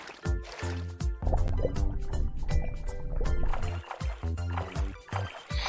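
A swimmer pushes water backward with the hands toward the shore, making a run of close, wet splashes and drips in an uneven, repeated rhythm.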